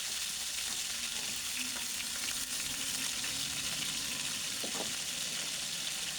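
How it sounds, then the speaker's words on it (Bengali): Chicken pieces sear in a hot pan and are turned to brown every side, a steady soft frying hiss with a few faint clicks and scrapes. "ঘুরিয়ে ঘুরিয়ে এভাবে চতুর্পাশে আপনারা ভেজে নিবেন মাংসটা"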